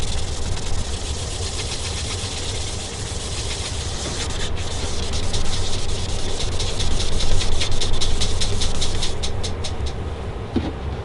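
Rag rubbing stain into a guitar body, a continuous broad scrubbing hiss that builds into quicker back-and-forth strokes in the second half, close and loud with no talk.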